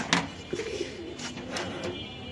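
Pigeons, including Danish birds, coo at a pigeon farm in Mirpur, Dhaka, with a few short soft coos and calls over faint background noise.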